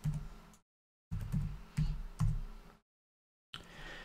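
Computer keyboard typing while entering a value in the Unreal Engine 4 editor: short bursts of close, soft key clicks separated by brief silences.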